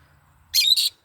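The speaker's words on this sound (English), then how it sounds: "These are my parrots." A pet parrot gives two quick, bright chirps up close in a quiet room, each lasting under half a second.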